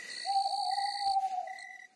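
Night ambience at a cremation ground: steady, high chirping of crickets under a soft owl-like hoot from a night bird, with a faint brief knock partway through, quiet and still.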